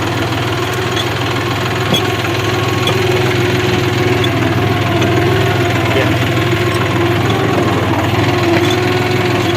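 A mini tractor engine runs steadily and close by, a loud continuous mechanical drone with a rattling throb, on a farm field with almost no talking.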